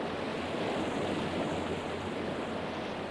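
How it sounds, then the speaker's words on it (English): A waterfall roars into an underground lake, a constant, broad rushing wash of falling water, steady and fairly faint, with no voices. "a mighty waterfall tumbled out of the darkness above with a loud roar"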